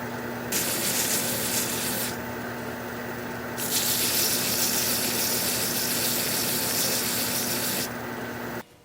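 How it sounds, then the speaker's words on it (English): Sandpaper or a powered sander works over a small wooden bud vase, making a continuous hissing, rubbing noise whose brightness shifts in a few sections before it cuts off at the end. "So I'll sand up this little bit left here and put a finish on it"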